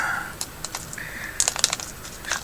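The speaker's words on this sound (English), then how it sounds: "sometimes these plastic bags are really difficult to open." A plastic parts bag for a Cokoino robot kit is handled and pulled open: light crinkles and sharp little rustles in quick bursts, close and fairly quiet.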